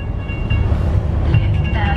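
A train rumbles past during a car ride, a steady low roar that swells slightly midway, with faint voices and music underneath.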